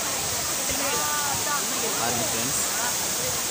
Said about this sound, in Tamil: தண்ணி நல்லா ஃபோர்ஸாக விழுது.